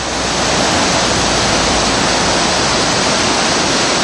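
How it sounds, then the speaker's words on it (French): The Rivière des Galets in Réunion, running high after recent rain, flows below a bridge as a loud, unbroken, broadband roar of rushing water that stays steady throughout. "il y a deux petites rivières parallèles, une plus petite là-bas et celle-là plus importante"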